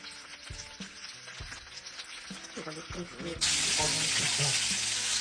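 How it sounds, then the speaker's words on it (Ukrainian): Marinated rabbit pieces frying in butter in a pan, a steady close sizzle and crackle that swells to a louder, denser hiss partway through, with soft stirring clatter and no talk. "Будемо обжарювати до золотистого кольору."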